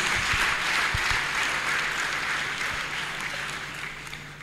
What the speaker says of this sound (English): Can somebody clap mightily for Master Jesus?